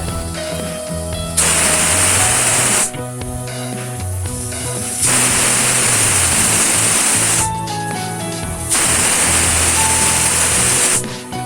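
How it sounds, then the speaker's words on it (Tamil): Pressure cooker full of green gram venting steam on a medium-high flame: three long, loud, bright hissing bursts alternate with quieter stretches of rattling and bubbling, with no talk over it. "இப்போ நம்ம குக்கரோட ஸ்டீம் ரிலீஸ் ஆனதுக்கு அப்புறமா இதை ஓப்பன் பண்ணி பார்க்கலாம்"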